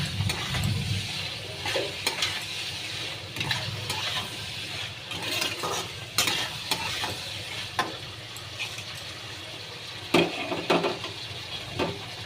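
Curry being sautéed in oil with ginger-garlic paste, green chillies and coriander leaves, giving a steady close sizzle with scattered spoon scrapes and clinks against the pan throughout.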